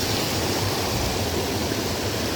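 Continuous rushing of water flowing steadily, a dense broadband wash with no pauses, close and fairly loud.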